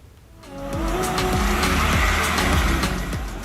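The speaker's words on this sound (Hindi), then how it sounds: "गियर लगाया, एक्सीलेटर दबाया और स्टीयरिंग घुमाते ही पटना की सड़कों पर फिर से घर घर करती फर्राटा भरने लगी" A jeep on a road in Patna accelerates, its engine revving up loudly and steadily with some tire noise, the roar building after a quiet start and then tapering slightly at the end.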